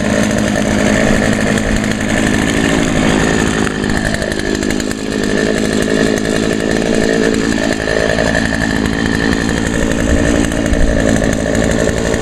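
A Poulan 2075 chainsaw engine runs steadily while warming up, a loud, close, continuous buzzing drone with no voices over it.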